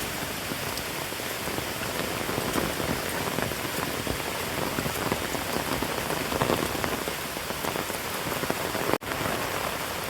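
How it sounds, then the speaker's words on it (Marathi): Heavy monsoon rain in Konkan pours steadily and loudly on surfaces among bamboo trees, a dense continuous patter with one brief sharp knock near the end. "जोरात पाऊस आलाय मित्रांनो"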